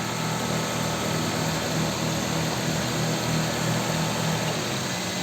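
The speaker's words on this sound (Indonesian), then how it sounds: "dalam kondisi mesin hidup" A car engine idles steadily and close by during a vocational technician's inspection, giving a continuous low, even hum and rumble with no speech over it.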